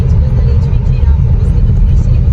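Jeep Compass 1.3 turbo T270 car accelerating, a steady low engine rumble and road noise held at a constant level throughout, close and loud, with no clear rise in pitch.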